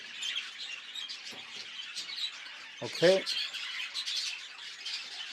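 Pet budgerigars squawk and chatter in an aviary at a budgie stud, with a sharp, louder squawk burst near the middle over a constant background of twittering; someone speaks briefly.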